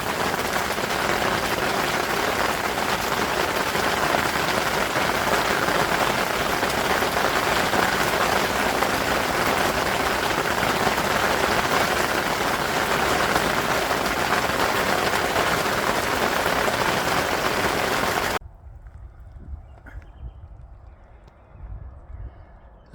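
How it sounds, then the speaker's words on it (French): During a carp fishing outing, dense, steady clatter of hail pelts a hard surface, loud and continuous for most of the clip, then cuts off abruptly to quiet patter and faint rumble. "Un orage de grêle."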